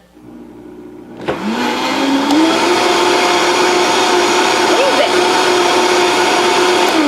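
A Vitamix blender whirs with soapy water inside. A brief word is spoken, then the motor starts abruptly and holds a loud, steady high-pitched whine, with slight pitch shifts partway through.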